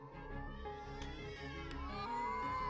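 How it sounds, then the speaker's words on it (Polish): Video game cats hiss, spit and meow in a dense, continuous chorus over layered music-like tones, fairly loud throughout. "Syczą i prychają i miauczą na nas wyraźnie."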